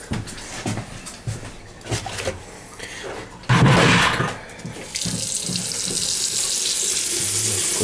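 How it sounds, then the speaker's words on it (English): Pressurized water and air blown out of an outside faucet on an unheated barn building while winterizing its water lines, starting as scattered splashes and then turning into a steady, loud, broadband hiss and gush that lasts to the end. "blowing all the water lines out, get all the water out of the lines."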